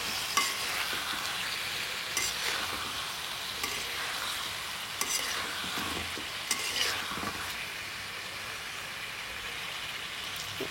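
Chicken pieces for morog pulao being stirred as they fry in a pan, a steady close sizzle with repeated scraping strokes of the spoon, no voices.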